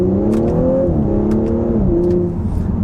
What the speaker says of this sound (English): There's some more burbles.